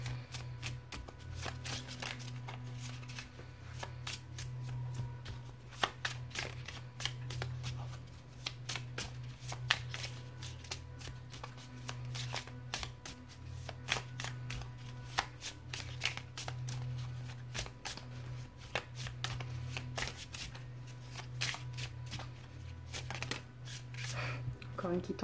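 Oracle cards from a Morrigan Oracle deck are shuffled during a live reading, a steady, continuous riffling and slapping of card stock, close and clear, with quiet talk underneath.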